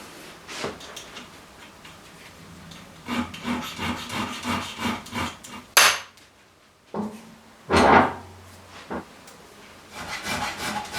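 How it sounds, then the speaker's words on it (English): Hand filing and scraping on seized bolts of a Hayabusa motorcycle in a garage, heard as bursts of rhythmic rasping strokes with a couple of sharper knocks and pauses between. "So that means filing them off, getting a centre punch in there"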